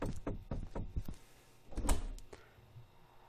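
An indoor door being opened, with a burst of creaking and knocking movement followed by a rising swish and a low thud, fairly close and alone.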